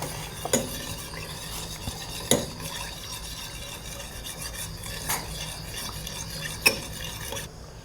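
Chili sauce is stirred into melted sugar in a pan, with steady scraping and swirling close up, a few sharp clinks of the utensil against the metal, and a faint sizzle beneath, with no speech.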